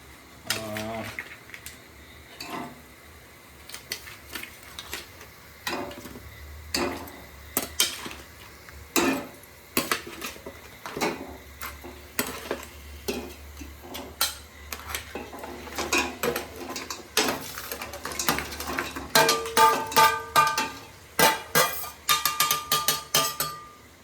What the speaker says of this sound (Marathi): चला तर ह्या सगळ्या चिंबोऱ्या आता आपण ह्याच्यामध्ये मिक्स करणार आहोत